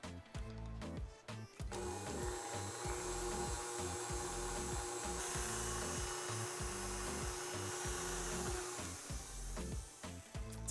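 An electric hand mixer with a whisk attachment beats a condensed milk filling for a mango lime icebox cake, giving a steady loud motor whir with rattling, uneven bumps throughout, alone without talk.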